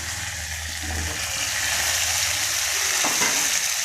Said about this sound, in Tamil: நல்லா தக்காளி நல்லா வதங்கணும்